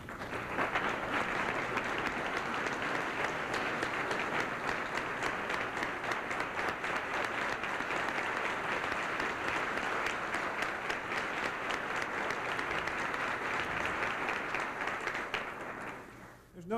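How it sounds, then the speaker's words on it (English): An audience at an award-of-courage ceremony gives sustained applause for the recipient's family, dense and even for about fifteen seconds before tapering off. "would you please applaud for them?"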